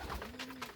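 A pigeon in a racing pigeon loft gives a soft, low coo, a single short near call over faint background rustle.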